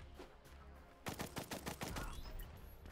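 Rapid bursts of gunfire in the side-scrolling action video game Blast Brigade, quiet at first, then a loud volley of closely spaced shots for about a second followed by a sustained din of further firing and game noise.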